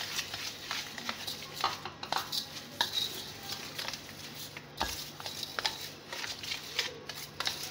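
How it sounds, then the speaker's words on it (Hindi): A spoon scrapes and stirs steadily through semolina batter as sugar is worked in for sweet Lahori pooray, giving close, continuous clinks and rasping strokes against the bowl with no talking. "और ये चीनी ही बिल्कुल मिक्स हो जाए।"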